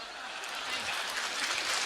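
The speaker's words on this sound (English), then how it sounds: "drawing laughter as well as applause" An audience at Angela Merkel's Harvard commencement speech applauds in a steady, fairly faint wash of many hands clapping, sustained and even throughout.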